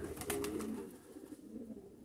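Pigeons coo softly in a low, murmuring rumble, faint and continuous against a hushed outdoor background.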